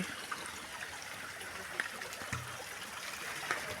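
Spring water trickles and gurgles out from inside a hill, a faint continuous flowing hiss at close range with small bubbling accents, with little else audible.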